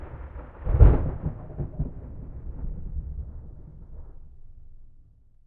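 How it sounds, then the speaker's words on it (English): Thunder in the video game Love and Deepspace: one deep, heavy crack swells into a long low rumble that rolls on and slowly fades into quiet. "That sounded like thunder."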